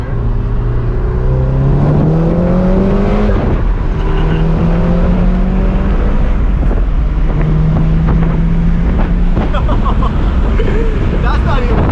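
A 2016 VW Golf R accelerates hard in second gear from inside the cabin, its engine note climbing steadily through several rising sweeps under loud wind rush, with people talking over it.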